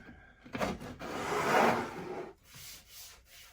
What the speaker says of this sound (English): So to remedy that, I'll put some tape on it.